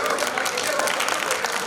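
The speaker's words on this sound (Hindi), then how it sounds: "एक बार जोरदार ताली आपको बजा दीजिए" Audience at a meeting in Hyderabad breaking into loud applause for a proposed candidate, a brief dense burst of clapping under a speaking voice.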